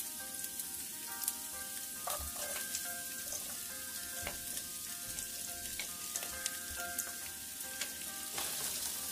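Onion and garlic fry in oil in a pan for an Italian-style spaghetti sauce, giving a steady, close crackling sizzle with occasional utensil taps and no talking.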